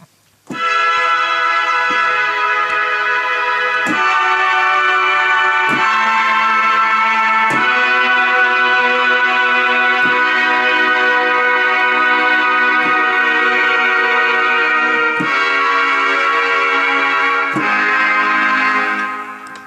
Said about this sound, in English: And there's another sound he used called brass B, which sounds like this.